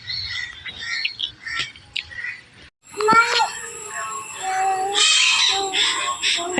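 Crows and chickens squawk and caw nearby in a lively, overlapping jumble while feeding on rice, growing busier in the second half, with some background voices.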